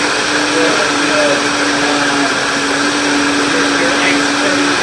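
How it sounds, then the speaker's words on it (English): A blender whirs steadily for the full stretch, loud and close with a constant motor drone, blending eggs and other brioche ingredients until smooth. "he's going to blend them up really nice and smooth"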